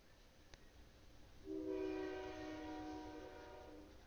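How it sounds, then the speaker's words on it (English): A passing train sounds a long steady horn blast that rises out of faint background noise and holds for several seconds, moderately distant, with no speech. "Mr. Choo Choo says hello."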